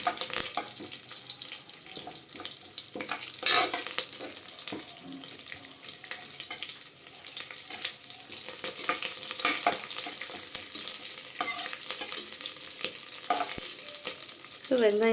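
Cumin seeds frying in hot oil in a pan and being stirred for jeera rice: a constant bright sizzle with scraping strokes of a spoon and occasional clinks, close and continuous, rising slightly toward the end.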